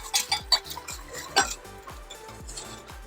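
Salt and dry mustard are mixed into an Instant Pot with chicken base and hot sauce for mac and cheese, a series of sharp clinks and scrapes of a utensil against the metal pot, irregular and close.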